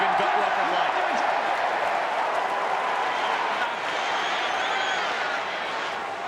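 A hometown crowd roars at an Australian football match between the Kangaroos and Port Adelaide in 2004, a broad sustained cheer that slowly fades, with a commentator talking over it.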